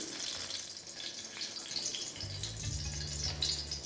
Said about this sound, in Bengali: আর বেগুনের পরে আমি এখানে একে একে বাকি ভেজিটেবলগুলোও ভেজে নিলাম।